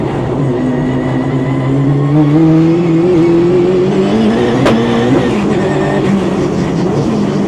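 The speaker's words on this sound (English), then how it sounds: "This car certainly is struggling finding any traction today." A 600hp Ford Escort race car on semi-slick tyres running on a cold winter track in the UK, its engine droning loud and steady with rising pitch, a brief sharp crack midway.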